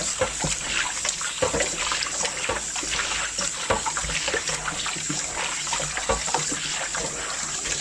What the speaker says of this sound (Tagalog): banlawan natin, hugasan natin ng maaliganggang na tubig